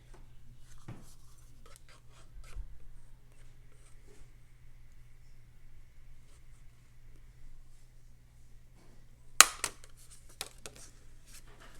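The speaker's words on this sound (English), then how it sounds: "I want to punch this out real quick" A handheld craft punch snaps through a paper shape for a Valentine journal, one sharp click near the end standing out from faint rustling and handling of paper close by.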